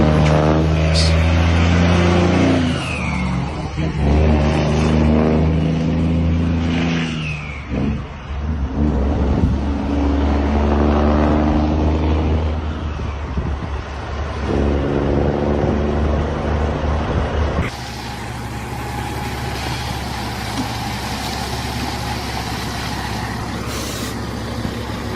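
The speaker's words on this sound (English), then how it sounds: "A fully loaded logging truck powers its way through a road blanketed in thick, white snow" A fully loaded logging truck drives through thick snow on a winter road, its heavy diesel engine droning loudly and close, rising and falling through several revving surges before settling into a steadier, lower rumble.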